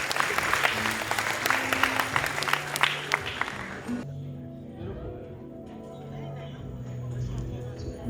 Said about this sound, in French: Merci de les applaudir, s'il vous plaît